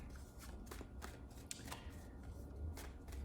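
Soft papery card handling at close range: a few quick shuffling flicks and slides as a tarot card is drawn from the deck, with light taps over a low steady room rumble.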